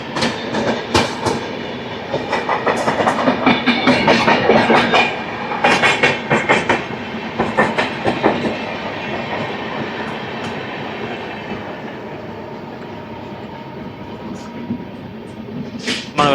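Rail traffic on the New Delhi approach near Pragati Maidan, heard around the Howrah–New Delhi Duronto Express: loud, rhythmic clickety-clack of wheels over rail joints, heavy at first, then easing into a steadier, quieter rumble.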